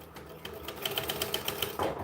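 A sewing machine tacks pieces onto a bag in a short, quiet burst of rapid, even stitching clicks, ending with a faint thump.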